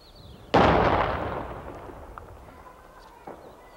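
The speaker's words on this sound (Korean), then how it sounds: "이곳에 도착하자마자 우리가 들은 것은 격렬한 폭발음이었습니다." A sudden, loud explosion booms through Herat, Afghanistan, a city heavily mined during war, with a long rumbling decay, followed a few seconds later by a fainter, more distant thud.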